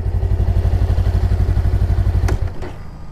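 A 2018 Honda Rebel cruiser motorcycle engine thumps in a loud, steady idle up close, then abruptly stalls and dies, leaving a brief clatter and quiet fading hum.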